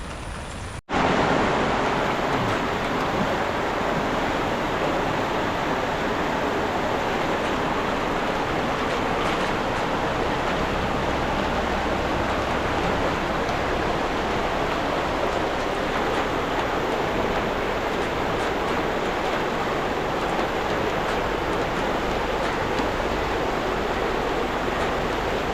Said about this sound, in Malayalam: ആട്യൻപാറ വെള്ളച്ചാട്ടം.